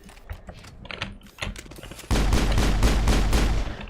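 Rapid automatic gunfire from a weapon emptied into a wall in the Mass Effect video game, a loud continuous burst of shots starting partway through after quieter game sounds.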